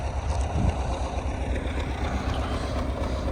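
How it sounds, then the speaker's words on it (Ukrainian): An MTZ 82 tractor in fifth gear, cultivating soil ahead of sunflower sowing, gives a steady, continuous engine drone with a low rumble throughout, heard close and alone. "Хожу п'ятий передачі. В принципі, трактор без нагрузки йде."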